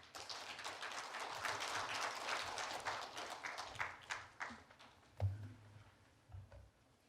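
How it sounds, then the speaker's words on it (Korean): Audience at an academic conference applauds to welcome a speaker to the stage, a dense, fairly distant patter of clapping that thins out into a few scattered claps and small knocks near the end. "여러분 참가자분들께서는 큰 박수로 맞이해 주시기 바랍니다"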